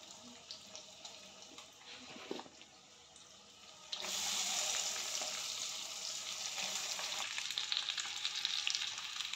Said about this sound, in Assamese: এতিয়া মই আমখিনি গৰম তেলত দি দিওঁ।